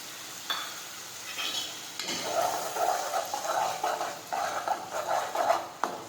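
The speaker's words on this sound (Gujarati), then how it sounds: "હવે આપણે થોડી વાર તળવા દઈશું." Ground tomatoes fry for a bean curry in a pan, a soft sizzle with stirring scrapes and light clinks of utensil against metal, fairly quiet and close.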